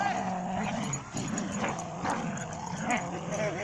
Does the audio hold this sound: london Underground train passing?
no